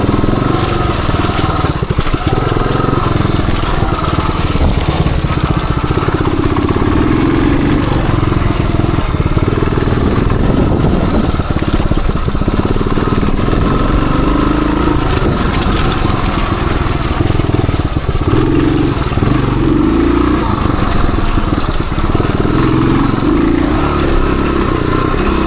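A 1978 Suzuki DR370 motorcycle cruising in third gear, its engine droning loud and steady throughout with wind buffeting and rattle, no break in the sound.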